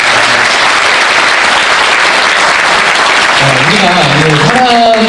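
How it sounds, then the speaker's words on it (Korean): Audience applause at a Korean talk-show lecture event, steady dense clapping throughout, loud and sustained, with a voice starting to speak near the end. "여러분 박수 한번 주세요."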